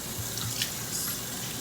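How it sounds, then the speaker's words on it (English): Tap water runs steadily into a sink as someone rinses their face with cool water, a close, continuous splashing hiss with small shifts in the flow and no voices. "Now I'm going to go in to rinse my face with cool water."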